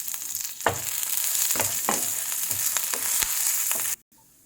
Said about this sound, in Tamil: இப்போ காஞ்ச மிளகாயும் கருவேப்பிலை ஜீரகம் போடுறேன், புளியையும் போடுறேன்.